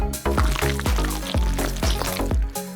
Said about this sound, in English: let's pour some white chocolate into a bowl